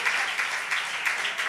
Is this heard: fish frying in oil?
no